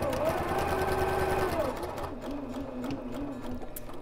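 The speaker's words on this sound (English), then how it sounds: "So we'll take that over to the sewing machine and baste that in place." A sewing machine bastes fabric with a rapid, steady whirring needle chatter, fairly close, slowing and easing off partway through, while a quiet voice is faintly present in the background.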